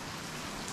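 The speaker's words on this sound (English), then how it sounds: "that rain's starting to come down again" Steady rain falling outdoors beside a workshop where a transmission rebuild is underway, a dense even hiss that fills the short moment without any talk.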